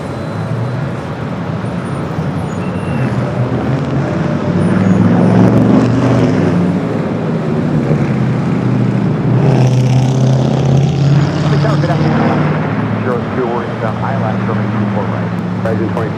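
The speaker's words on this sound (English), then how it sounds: "There we got that Delta 767 up next" Delta Boeing 767 jet at Los Angeles International Airport, a loud steady engine roar with a swelling rumble that peaks mid-clip, heard amid constant airport and traffic noise without talk.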